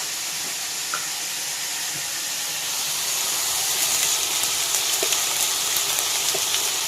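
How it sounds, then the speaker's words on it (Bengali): Panch phoron spices frying in hot oil in a wok make a soft, steady sizzle and hiss that grows a little louder halfway through, with a few faint clicks of the pan. "কড়াইতে বন্ধুরা তেল আছে একটু পাঁচফোড়ন দিয়ে দেবো"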